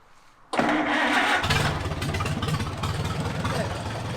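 An old tractor engine cranks and fires up, catching quickly into a loud, steady rumbling idle close by, with its chugging running on continuously after the start.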